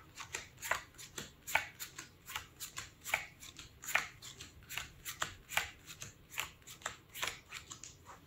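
Playing cards riffle-shuffled and remixed into two piles during a magic trick: a quick, regular series of crisp papery riffles and snaps, roughly one or two a second, close and clear with no talking.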